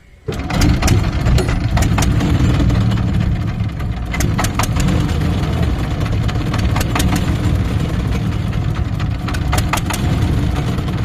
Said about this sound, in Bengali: চাচা অলরেডি নৌকা স্টার্ট দিয়েছে আমরা রওনা হয়ে গেছি